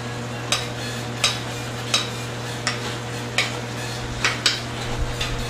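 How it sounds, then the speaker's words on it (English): Sea scallops are pan roasted and basted with garlic and herbs: a faint steady sizzle with regular spoon clinks against the pan roughly every second, close by and with no talking. "you want to get some of the herbs and the garlic right over the scallops as you baste them"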